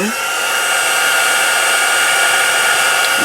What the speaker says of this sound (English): let's turn that heat tool back on.